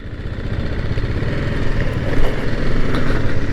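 A motorcycle engine runs steadily nearby on a road, with a continuous low rumble that swells slightly in loudness toward the end.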